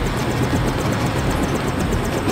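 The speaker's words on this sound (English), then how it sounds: "Take the helicopter back to base." Helicopter engine in the video game Deus Ex, a loud steady rotor drone with a rapid chopping pulse running continuously throughout, with no voices over it.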